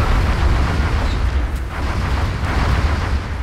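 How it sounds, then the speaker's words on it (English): A grenade blast in XCOM: Enemy Unknown rolls out as a continuous heavy low rumble, steady and loud for several seconds with no voices over it. "he's gonna chuck a grenade at that guy"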